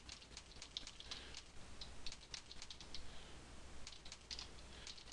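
Typing on a computer keyboard in an office setting, with quiet, rapid, irregular key clicks running throughout at low level and no voices.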